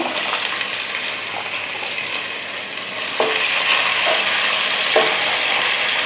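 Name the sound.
chopped onions sizzling as they are added to the pan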